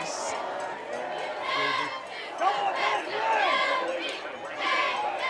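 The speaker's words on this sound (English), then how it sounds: "you have an angry Parkway Panther fan that's yelling in the crowd" A football crowd at a Parkway Panthers game, with an agitated fan shouting above a steady, loud wash of overlapping voices and cheering that keeps rising and falling.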